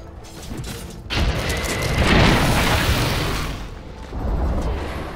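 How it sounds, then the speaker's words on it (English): A Dota 2 tower crumbles in a deep, rumbling boom that swells and sustains for several seconds, followed by a second rolling crash near the end, thick with low crumbling debris noise. "Radiant's bottom tower has fallen."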